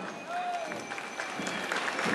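Crowd applause along a street parade at a night carnival with floats and costumed troupes, as army battalion soldiers pass; steady broadband clapping fills the whole clip, with a brief whistle-like tone and some voices mixed in.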